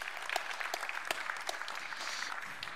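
An audience at the Ecosummit conference in London claps steadily, a faint, even patter of many hands with a few sharper claps standing out and no speech over it.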